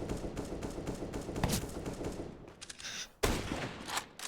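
Scout sniper rifle shots and other weapon fire in a Counter-Strike match at a professional esports league event, sharp close cracks and bursts in quick succession with a brief lull before a final loud volley.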